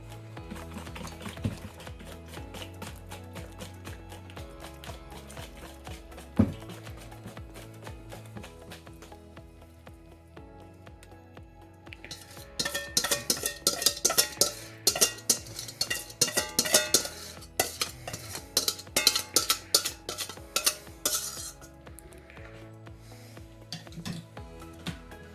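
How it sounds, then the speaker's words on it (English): Melted chocolate and butter are whisked into an egg mixture in a bowl, a soft rhythmic stirring that later turns into brisk, loud clinking strokes against the bowl. "I'm going to whisk that in."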